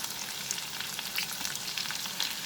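Onion and capsicum sizzling in a hot pan, a dense, crackling fry with small pops, steady and fairly close, with no voices.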